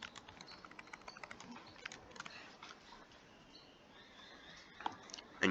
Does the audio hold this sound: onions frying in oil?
no